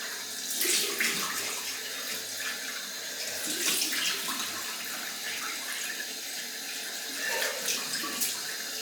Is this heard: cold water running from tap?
yes